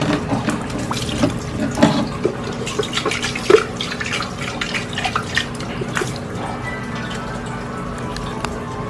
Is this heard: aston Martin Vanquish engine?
no